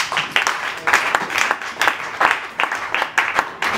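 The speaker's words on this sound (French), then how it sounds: "S'il vous plaît, si vous pouvez applaudir pour lui." Audience applause at a celebration for comedians, loud, close, uneven clapping in surging bursts from a small crowd, the claps bunching into rough rhythmic waves.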